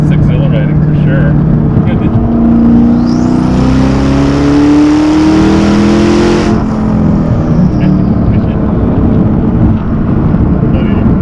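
A Hennessey GT1000 twin-turbo Ford GT accelerates hard with a loud, close engine roar rising in pitch over several seconds before easing back into a steady rumble.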